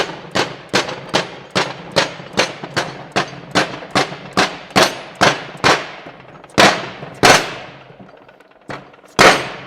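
A press-fit limited slip part tapped onto a Ford F-250 differential, a rapid series of about twenty sharp, loud metallic knocks close by, evenly spaced at first, then slowing with a short pause near the end.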